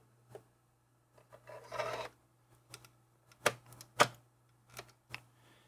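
An expansion card slides into a Roland TD-10 electronic drum module: soft scraping, then two sharp plastic clicks and a few lighter taps over a steady low electrical hum.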